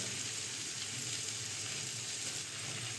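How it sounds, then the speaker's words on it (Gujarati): Hakka noodles fry in a pan with a continuous, even sizzling hiss, close and moderately loud, with no voices. "હવે આપણે એમાં નૂડલ્સ નાખી દઈશું"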